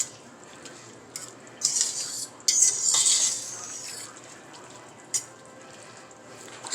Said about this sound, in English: Then I'm just gonna stir it up in there.